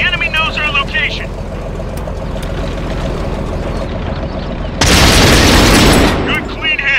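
A tank cannon in World of Tanks, fired from a Pz. 35 (t), lands a hit on an enemy vehicle with a loud, broad blast that lasts over a second, after several seconds of engine rumble and radio-style voices.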